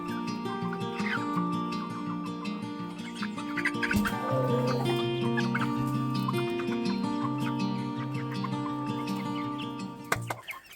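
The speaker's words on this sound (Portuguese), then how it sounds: "E aqui estão os franguinhos." Young chickens with large, well-developed wattles and combs cluck and chirp together in a pen, a steady busy mix of bird calls close by with no talk.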